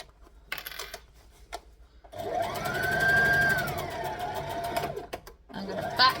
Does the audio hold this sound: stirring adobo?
no